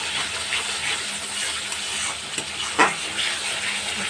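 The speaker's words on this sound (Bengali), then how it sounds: "এইটা দিয়ে এখন সুন্দর করে আমি কষাবো।" Spice masala fries for a surma fish curry, a continuous hiss of sizzling oil and steam with a few soft stirring scrapes and one brief clink, with no talk.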